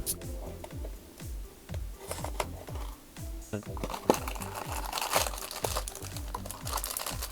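Packaging of a Beyblade Dynamite Belial toy being torn open and unwrapped, with steady crinkling, crackling plastic and paper, and quick rhythmic handling noises close by, with no talking.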